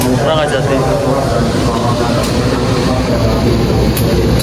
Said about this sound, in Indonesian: 20123 melangsir rangkaian kereta api